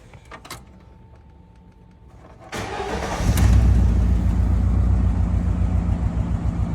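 A car's petrol engine, running with a suspected faulty fuel injector or wiring, cranks briefly with a few clicks before firing up and settling into a loud, steady, slightly uneven idle close by, with no talk.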